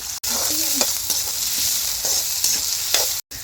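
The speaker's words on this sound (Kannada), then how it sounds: "ಈಗ ಈರುಳ್ಳಿ ಹಾಕೊಳ್ಳೋಣ." Onions dropped into hot raw oil in a heated pan sizzle loudly and steadily, with scraping stirs and a brief cutout near the end.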